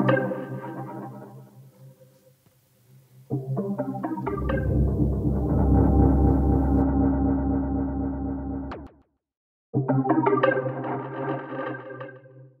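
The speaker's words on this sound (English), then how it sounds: "This will randomize all the parameters to create a completely random grain sound." Randomized grain synth patches from the Glitter plugin play in bursts of dense, distorted, echoing granular tones, swelling loud in the middle, cutting out briefly, then returning with a fresh textured phrase.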